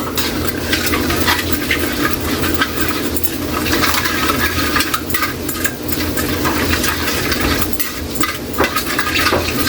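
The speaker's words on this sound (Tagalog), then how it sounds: "Kaili, mainit na yung mantika natin. Kaili, lagay natin yung aswiti para kumulay yung papaitan natin" Annatto seeds fry in hot cooking oil, giving a loud, steady sizzle with crackling and occasional stirring clinks, continuous from start to finish with no talking.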